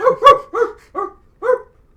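A dog gives five short, sharp barks and yips in an uneven rhythm, loud and close, with quiet gaps between them and no talking.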